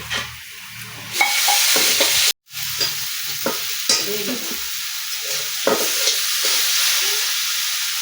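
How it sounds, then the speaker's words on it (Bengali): Taro leaves frying in a pan with green chili, a continuous close sizzle with repeated spatula scrapes and stirs, and one brief cut to silence partway through. "আমাদের কচু সেটে পাতা ভাজা হয়ে গেছে"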